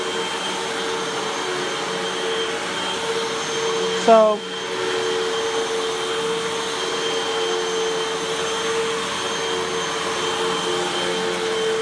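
A Hoover WindTunnel 2 Rewind Pet or Dyson DC33 vacuum cleaner drones steadily on low pile carpet, a close, constant motor whine with one brief bump partway through and a single spoken word.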